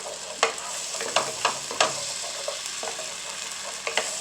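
Rice-and-peas ingredients sizzling in a hot pan as a spoon stirs and scrapes them, a steady close hiss broken by repeated sharp scraping strokes, no voices.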